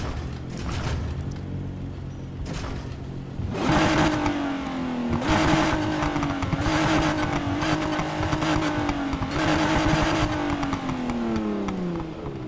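An American muscle car engine in Need for Speed Heat idles with a throaty burble, then rises through a series of sharp revs and sustained climbs in pitch, loud and close, with no talking.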